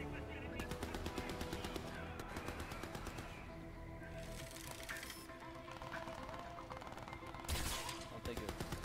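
Rapid sustained automatic fire from a turret machine gun in the shooter game Crysis 3, dense continuous bursts with impacts and debris, a brief louder blast near the end, all quite low in level.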